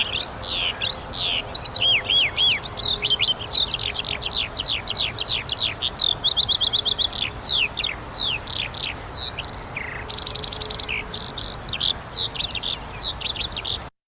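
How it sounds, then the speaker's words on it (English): A skylark sings continuously in open farmland, a rapid stream of high chirps, warbles and trills, loud and close, with a faint low hum of distant human noise underneath throughout. "even though we have this beautiful skylark singing"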